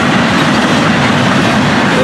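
A short, fast FEC freight train rushes past close by, a loud, dense rail roar with steady wheel clatter throughout and no talking.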